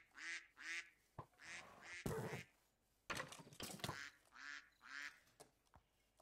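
Ducks quack repeatedly in the Minecraft video game, a string of nasal game-sound quacks spread through the clip alongside some brief clattering effects, with no talking.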